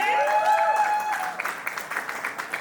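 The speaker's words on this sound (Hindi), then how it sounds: "जोरदार तालियां हो जाए।" An audience applauds the team captain at a GCL stars celebrity event, with a brief swell of clapping that fades quickly into scattered claps over a lingering tonal sound and faint voices.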